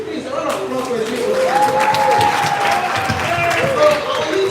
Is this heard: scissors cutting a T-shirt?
no